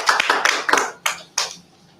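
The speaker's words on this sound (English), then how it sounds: "If you could join me in giving a round of applause." A few scattered claps from a small audience after a conversation event, sharp and close, spaced out and fading quickly into quiet.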